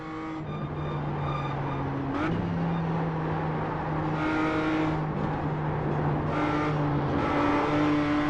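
A BMW M2 CSR race car drones steadily at high revs on the Willow Springs circuit, the engine pitch dipping and climbing through gear changes while following another car closely.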